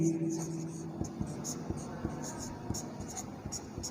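Chalk or marker strokes tap and scratch on a board during a trigonometry lecture, a quiet series of short irregular writing sounds with a faint hum behind and no speech.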